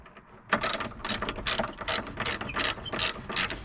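A ratchet turns a 10mm socket to tighten a car battery hold-down, giving a rapid series of sharp metallic clicks in short repeated bursts, close and distinct with no talk.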